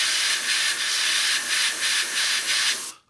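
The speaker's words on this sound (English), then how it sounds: "and then we're just going to spray" Loud, close hiss of a spray can in several short bursts on a 1/32 scale model Spitfire, ending abruptly.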